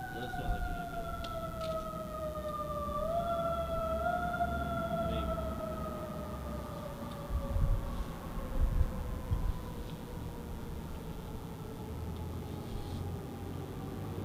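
An ambulance siren wails, holding a steady, slowly falling tone in the distance, continuing throughout with faint background noise and a brief word spoken.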